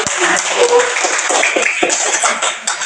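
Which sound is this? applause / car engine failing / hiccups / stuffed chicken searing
applause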